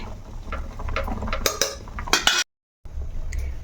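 A spoon stirs masala stuffed brinjal curry in a pot, giving several clinks and scrapes of metal against the pan at close range, followed by a brief silent gap and then low kitchen hum.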